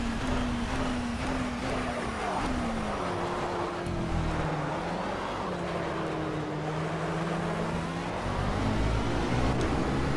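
A race car in Project CARS drives continuously, its engine whine rising and falling through gear changes and corners, steady and prominent, with no voices.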